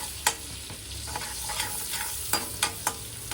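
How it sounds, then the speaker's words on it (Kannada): Broccoli frying in butter in a pan gives a steady close sizzle, broken by several sharp scrapes and clacks of a utensil stirring against the pan. "ಬ್ರಾಕ್ಲಿ ಅದರೊಳಗಡೆ ಹಾಕಿ ಅದನ್ನು ಚೆನ್ನಾಗಿ ಫ್ರೈ ಮಾಡಬೇಕು"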